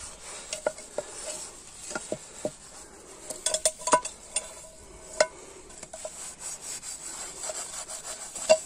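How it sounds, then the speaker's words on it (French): Dishes washed by hand outdoors in open nature with organic soap, a series of irregular scrubbing, rubbing and light clinking sounds, close and fairly quiet against a calm background. "J'aime bien ici faire ma petite vaisselle aussi dehors comme ça"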